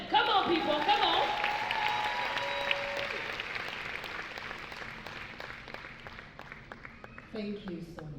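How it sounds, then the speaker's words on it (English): An audience claps for a conference panel at a women's event, a loud burst of applause that slowly fades and thins over several seconds, with a voice breaking in near the end. "a better round of applause for all of them"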